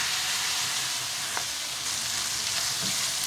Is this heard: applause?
no